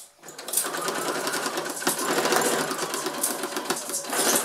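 A sewing machine stitches along the zipper of a double-sided fabric pouch, a steady close rapid mechanical whir with slight pauses and speed shifts, running alone for several seconds.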